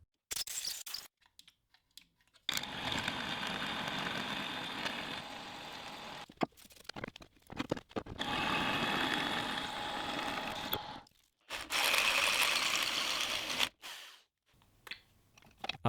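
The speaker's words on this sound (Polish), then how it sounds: "Ucieszony z pomysłu kołkowania użyłem rozwiertaka." A cheap Chinese reamer cuts into metal for dowel holes, giving three sustained grinding, chattering passes separated by short silences, close and fairly loud with no voices.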